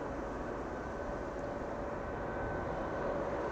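A Boeing 777 airliner at Amsterdam Schiphol Airport gives off a steady, broad jet roar at moderate distance, even and unbroken, with no voices.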